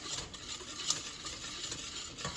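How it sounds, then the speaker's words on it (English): Condensed milk is slowly stirred into a thick Christmas pudding mixture, a soft continuous swishing and scraping in a bowl with one faint clink, close but quiet, without speech. "Just stir it in slowly."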